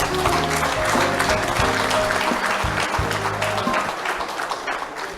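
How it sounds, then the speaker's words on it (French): An audience applauds the newly re-elected governor at a press gathering in Lualaba, a steady wash of clapping with music playing underneath that thins out near the end. "que vous pouvez applaudir naturellement"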